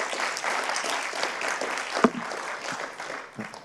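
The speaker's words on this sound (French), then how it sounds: "On vous applaudit bien fort." Audience applause at a 2021 competition final prize ceremony, a dense, even wash of clapping from a crowd that carries on throughout, with one sharper clap standing out near the middle.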